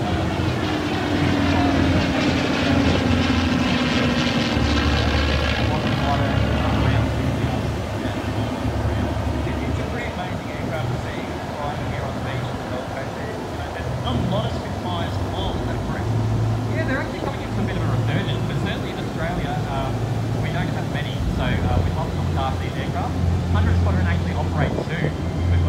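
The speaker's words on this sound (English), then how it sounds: "anytime the nose of the Spitfire is up, the Mustang needs a lot of power" Supermarine Spitfire and P-51D Mustang warbirds fly past at the Pacific Airshow. A rumbling engine roar sweeps by, its pitch dropping early on, and runs underneath continuous commentary.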